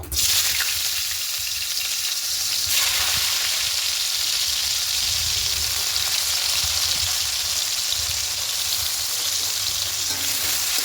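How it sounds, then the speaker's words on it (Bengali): Chopped onions fry in hot oil in a wok for a spicy Bombay duck (lote fish) dish. A loud, continuous sizzle rises sharply at the start and holds steady throughout, with faint stirring underneath. "তেলটা গরম হয়ে এসছে প্রথমে এখানে পেঁয়াজ কুচি দিয়ে দেব"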